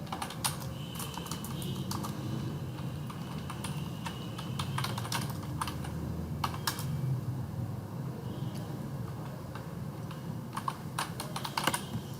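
Steady, fairly quiet typing on a computer keyboard while entering a delivery note in point-of-sale billing software, with irregular clusters of key clicks over a low background hum.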